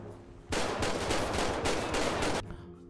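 A burst of rapid automatic gunfire in GTA 5 rattles out for about two seconds, loud and dense, then cuts off abruptly.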